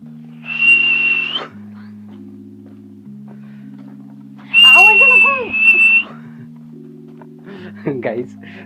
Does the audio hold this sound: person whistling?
yes